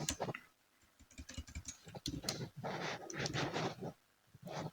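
An activity name is typed on a computer keyboard in Primavera P6, rapid uneven bursts of close key clicks with short pauses between runs of keystrokes.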